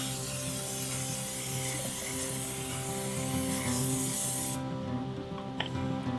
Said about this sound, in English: You're also going to need to spray your bundt pan.